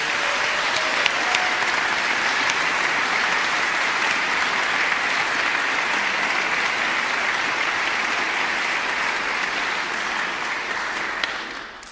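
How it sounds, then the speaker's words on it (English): Sustained, dense applause from a large audience at a youth music competition prize-winners announcement, steady and loud across the whole stretch before tapering slightly at the very end, with no talking over it. "Can we please give this group of people a hearty round of applause?"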